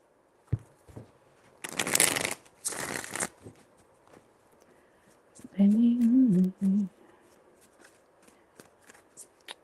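Tarot cards shuffled in two bursts of riffling, close and crisp, followed by a softer card-handling sound, with quiet gaps between.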